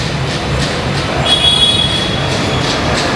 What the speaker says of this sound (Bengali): সঙ্গে সঙ্গে দেখুন মেট্রোও চলে আসছে